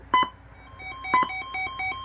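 Quiet electronic beeping from a Sangean CL-100 alarm clock radio, with short tonal chirps in two clusters about a second apart, over a faint steady hum; the beeping is a fault occurring before the speakers come on.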